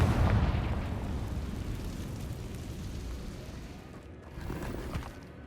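A Confringo fire spell in Hogwarts Legacy bursts with a heavy low boom, then a long rumbling roar that slowly fades, with a second smaller swell near the end.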